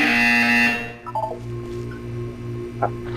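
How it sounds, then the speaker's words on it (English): A short electronic buzzer tone sounds in the video game Portal 2, then a low pulsing hum with a few brief beeps follows, steady and fairly loud. "You will hear a buzzer."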